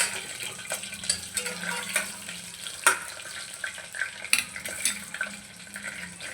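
Curry leaves and two green chillies crackle and spit in hot oil for chicken pulao, with a steady low sizzle broken by sharp pops and a few utensil clinks close by, no talking.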